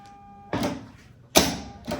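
A sewing machine stitches a seam on a backpack in a few short mechanical bursts, close and fairly quiet, with pauses between runs.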